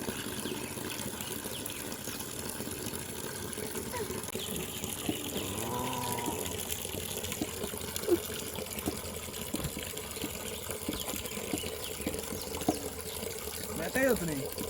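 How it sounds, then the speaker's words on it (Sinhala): Water pours and gushes steadily while a container is filled for watering newly planted chili seedlings outdoors, a continuous wash of noise with occasional clinks and a person talking over it. "වතුරක් පුරවගමු ඉස්සෙල්ලා මේකට"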